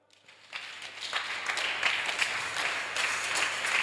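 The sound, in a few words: congregation applauding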